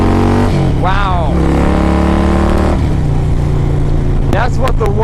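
A Harley-Davidson Road Glide with a 113 cubic inch engine accelerates hard, its deep rumble climbing through gear changes with rising whine, loud and close, with brief voices breaking in near the end.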